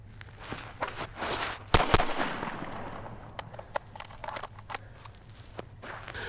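A pistol fires at targets during a shooting drill, one loud sharp crack followed by a few fainter pops and clicks amid light shuffling movement.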